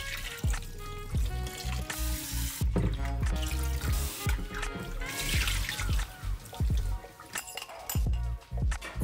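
Shrimp being rinsed under a running kitchen tap after marinating: water splashes and trickles continuously into a sink, with occasional light clinks of the bowl, close and fairly loud.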